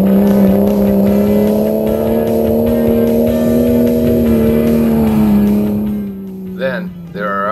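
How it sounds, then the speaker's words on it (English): A 4x4 off-road truck engine drones steadily and loudly as it climbs a steep clay hill made muddy with sprinklers, holding a strained, even pitch before easing off near the end. "Some trucks are able to claw their way over the top."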